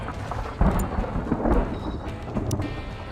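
Meteor rain strikes the ground in the video game Stranded: Alien Dawn: deep rumbling booms and crackling impacts rolling like thunder, with a couple of sharper hits standing out above the steady low roar.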